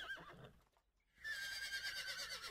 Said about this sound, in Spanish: Los caballos corrían muy a la par.